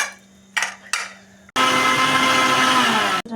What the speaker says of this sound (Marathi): मिश्रण आपल्याला आता मिक्सरमधून बारीक करून घ्यायचं आहे.